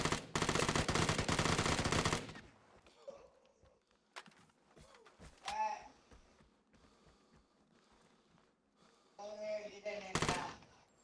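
Rapid bursts of gunfire from the Vigor multiplayer video game, a dense volley up front followed by scattered single shots and a second burst near the end, with brief in-game sounds between.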